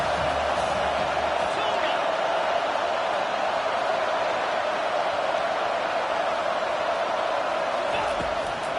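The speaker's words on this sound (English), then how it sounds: "Decibels rising as the crowd gets behind this defense on third down." A stadium crowd at a football game on third down, a loud dense steady roar of cheering that holds constant throughout.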